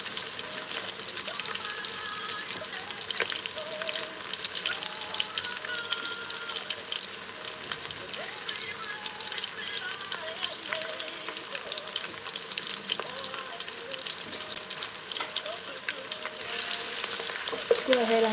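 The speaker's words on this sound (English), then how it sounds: "Go ahead and saute that." Bay leaf sautéing in hot aromatic oil for jollof rice, a steady close sizzle and crackle of frying with occasional stirring scrapes, continuous throughout with no talking.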